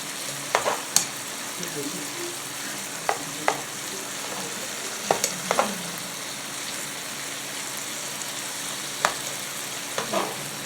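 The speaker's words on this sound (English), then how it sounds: "you just want to cook that salmon till it's nice and flaky" Salmon fillets sizzle quietly in a pan for a teriyaki glaze, a soft steady frying hiss broken by scattered sharp pops and crackles.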